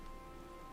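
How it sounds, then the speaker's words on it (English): Steady, soft rainfall from Final Fantasy XIV, the video game, forms an even, hissing wash of drops with no speech over it. "How is it raining here, actually, first of all?"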